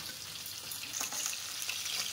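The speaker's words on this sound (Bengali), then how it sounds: "পমফ্রেট মাছ এক পিস ভাজা হয়ে গেছে" Pomfret fish frying in a pan, a steady close hiss of hot oil with light crackling, continuous and fairly quiet throughout, with no talking.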